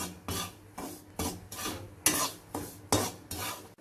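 Flour dry-roasting in a pan for Kaaradayan Nombu adai, stirred with steady strokes: about eight rhythmic, close scraping rasps, each a short gritty sweep, with no voices.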